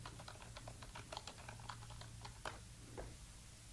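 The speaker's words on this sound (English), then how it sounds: "Just click and type." Steady typing on a computer keyboard, a quick run of light key clicks with a few sharper taps, over a low constant hum.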